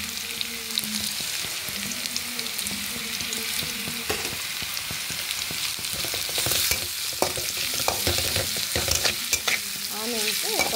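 Onions frying in a pan while a spoon stirs them, a continuous crackling sizzle punctuated by scraping and clattering strokes of the spoon, fairly close and with no talking.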